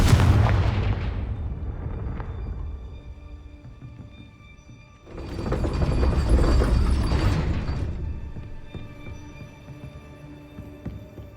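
Confringo fire spell blasts in the Hogwarts Legacy video game: two heavy booming bursts, a loud one at the start that fades away, then a second broad roaring blast that swells and slowly decays.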